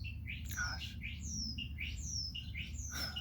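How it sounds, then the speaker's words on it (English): Several loud birds squawk and call outdoors in repeated harsh, chirpy bursts over a steady low rumble, each call sliding quickly in pitch, with no talking. "those birds are so loud"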